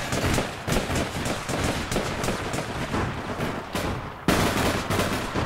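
Rapid gunfire from APB Reloaded rattles in dense automatic bursts with short pauses and one sharp louder volley near the end, close and continuous, with no talk.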